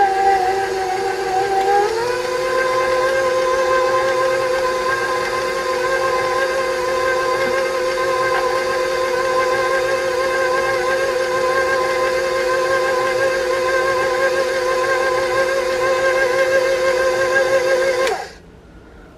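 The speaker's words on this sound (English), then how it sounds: "Scrape the mixer. Bring it back up and mix again." An electric stand mixer beats brownie batter in a loud, steady, close whine, shifting up in pitch early on and holding level until it is switched off near the end.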